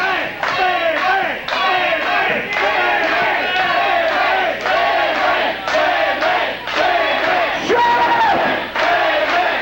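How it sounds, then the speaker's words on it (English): A wrestling crowd at an IWA Mid-South deathmatch show in 2001 chants a wrestler's name in loud, rhythmic, repeated bursts that fill the arena, with occasional thuds underneath. "Sandman walks up as the crowd chants his name."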